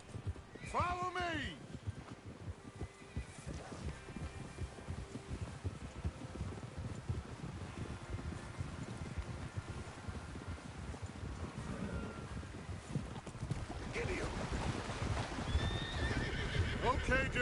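Horses in the Red Dead Redemption 2 video game, with a sharp whinny at the start followed by steady hoofbeats through wind, then another neigh near the end. Voices talk at times underneath.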